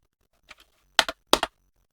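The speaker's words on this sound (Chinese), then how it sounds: "在文件地址栏中输入 cmd。" Typing cmd into a file address bar on a computer keyboard gives a few crisp, close key clicks in three small groups, the last two louder, in otherwise quiet surroundings.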